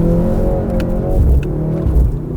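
Mercedes-AMG C63 S E-Performance accelerating hard in drift mode, loud engine drone rising and shifting pitch with brief gear-change breaks, heard close from inside the car with no talking.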